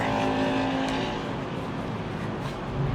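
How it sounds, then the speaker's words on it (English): Steady, broad roar of heavy road traffic nearby, with vehicles rushing past continuously and no voices. "I'm living next to the highway, so it's pretty loud"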